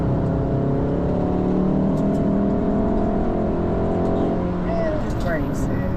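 A car on a Nürburgring Nordschleife track day accelerates at full throttle, its engine droning loud and steady with rising harmonics, while a voice talks over the cabin noise.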